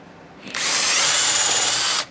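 A power drill drives a screw into wood for a bunk bed frame, one loud, close, steady whir lasting about one and a half seconds before it stops abruptly.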